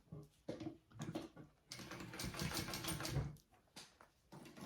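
Sewing machine basting fabric onto a bag, heard as bursts of whirring stitching that stop and start, with a longer steady run in the middle and short pauses between.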